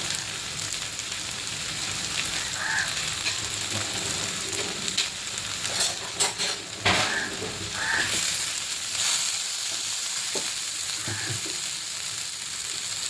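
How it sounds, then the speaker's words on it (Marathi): Mixed vegetables sauté with a green spinach paste for palak pulao, a soft, continuous sizzle like light rain, with occasional stirring scrapes and clinks, fairly quiet and without speech. "हे ग्रीन वाटप टाकूया. चांगलं परतून घेऊया."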